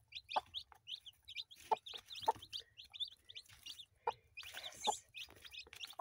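A broody hen clucks softly and repeatedly to her newly hatched chicks, with short close calls in an uneven rhythm and a few higher peeps among them, and no talking.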